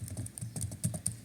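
Fingers type on a computer keyboard in quick, uneven light clicks, close and quiet, with no talking.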